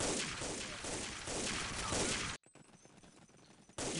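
Loud, continuous gunfire from the Day of Defeat 1.3 video game, with rapid overlapping shots. The shooting cuts out for about a second and a half, then bursts back in.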